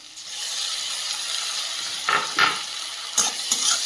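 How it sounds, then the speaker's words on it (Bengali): Chopped onions fry with onion paste in a pan of hot oil, a steady near sizzle and hiss with a few louder stirring bursts and scrapes toward the end, no voices. "কুচিয়ে রাখা পেঁয়াজটা কিছুক্ষণ ভেজে নিয়েছি। এরপর দিয়ে দেবো বেটে রাখা পেঁয়াজ।"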